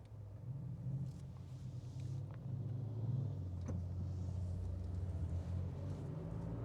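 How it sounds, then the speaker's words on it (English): Toronto TTC city buses approaching on a road: a low, steady rumble of heavy engines swells faintly and continues as a soft drone heard from inside a vehicle, without talk. "a couple of TTC buses are coming this way"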